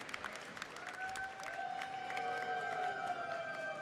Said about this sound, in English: can we get a round of applause for Melly, aficionado of Gundam